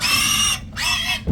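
A little pig grunts and oinks in two close, loud bursts with a brief pause between, coaxed out on a farm.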